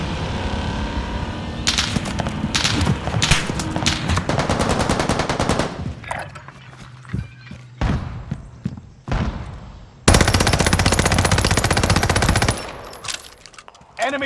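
Rapid automatic gunfire bursts in a Godzilla and King Kong event match of a battle-royale video game, loud and close, with repeated volleys, a lull of scattered shots and then another dense sustained burst.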